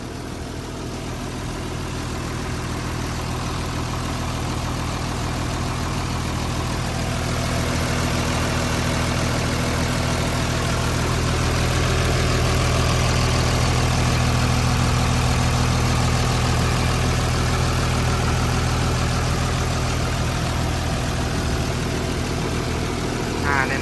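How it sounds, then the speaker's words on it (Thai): A large Hino six-cylinder turbo diesel engine in a Hitachi LX100-2C wheel loader idles steadily and loudly, a deep continuous rumble with an even throb that swells slightly midway through. "เสียงเครื่องก็ทำงานได้ปกติเลยนะครับ"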